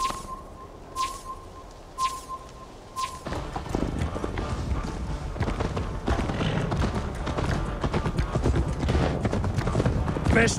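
Video game horse hooves clip-clop in a steady rhythm, a few sparse chimes leading into a busy, continuous trot layered with other game ambience.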